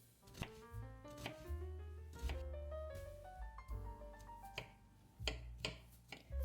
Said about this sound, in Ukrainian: одну велику ріпчасту цибулю чистимо та дрібненько нарізаємо